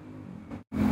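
A motorcycle speeds past behind the speaker, a rising engine rush that swells toward the middle, drops out briefly, then returns loud and close.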